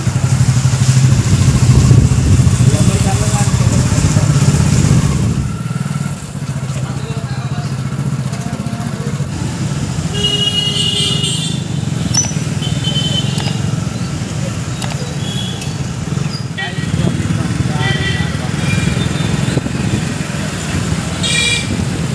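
Motorcycle ride through a town during the Navratri pandal festival in Gopalganj, with a steady close engine drone under road noise and several car horns honking nearby.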